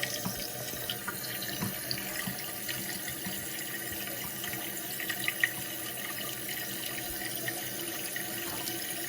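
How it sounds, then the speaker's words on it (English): Water rushing steadily into a toilet tank as it refills, a continuous close hiss and gurgle with no pauses and no voices. "you don't want this water that's filling into the tank to go above or even come close to going above the top of this"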